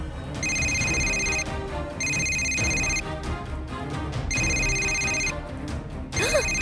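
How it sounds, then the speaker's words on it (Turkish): A telephone rings in repeated electronic bursts, three long trilling rings separated by short pauses, with a busy background of other sounds underneath. "Yine telefon çalıyor."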